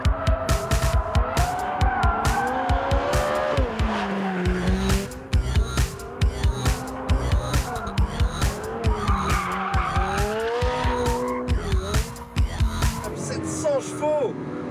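A race car with a carbon chassis on standard road tyres works a track day, engine loud and revving through gear changes while tyres squeal and skid repeatedly through a double left-hander, near and continuous for the whole stretch.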